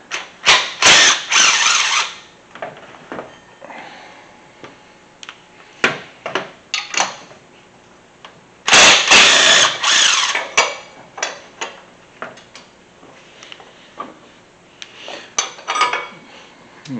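Ratcheting clicks and metallic clinks of a socket wrench fitted with a 13 mm deep socket working bolts on a Mustang engine during a leaking-valve repair, coming in loud close bursts separated by quiet gaps.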